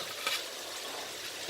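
Cauliflower going into frying masala, a steady soft sizzle with a faint stir early on and a sharp clatter right at the end.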